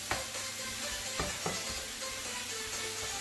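Meat fries in a pan next to leek and onions, a steady dense sizzle with a few light scrapes and taps of a utensil, close and continuous.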